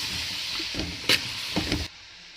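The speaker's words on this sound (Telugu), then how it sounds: "ఇప్పుడు ఒక స్పూన్ ఉప్పు ఒక స్పూన్ పసుపు వేసి వీటిని బాగా ఫ్రై చేసుకోవాలి" Mushrooms frying in a pan with salt and turmeric, a steady close sizzle with a few brief louder stirring scrapes, no voices, ending abruptly after about two seconds.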